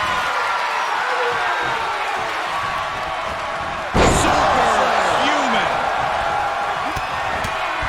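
Arena crowd noise in the WWE 2K23 wrestling game, continuous cheering under a commentator's voice, with a sharp loud slam hitting mid-clip and the crowd swelling after it.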